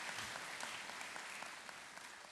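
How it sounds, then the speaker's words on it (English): Applause for the educators at a high school graduation ceremony, a steady wash of many hands clapping that holds level for a couple of seconds without any voices. "Let's give them a well-deserved round of applause as well, all of our outstanding educators"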